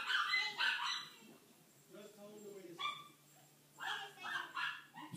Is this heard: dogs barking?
yes